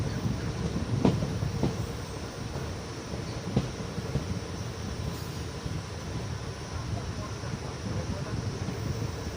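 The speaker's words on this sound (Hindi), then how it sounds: "इस समय हमारी ट्रेन जो है वो माला के घने जंगलों से गुजर रही है" A passenger train rolls through dense forest on the Mailani line with a steady rumble and faint clickety-clack of wheels, heard from inside the carriage for the whole stretch.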